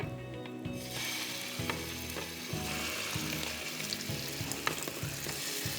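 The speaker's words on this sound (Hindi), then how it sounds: "सीख कबाब बनाने के बाद आपको इसको हल्का सा फ्राई करना है।" Seekh kebabs are lightly fried in a pan with a sizzle that starts abruptly and then holds steady. Occasional clicks and scrapes from turning are heard close by, with no voices.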